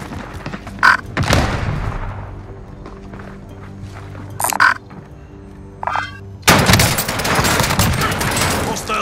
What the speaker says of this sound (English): Hostile explosion.